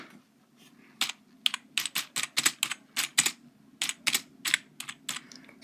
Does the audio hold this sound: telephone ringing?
no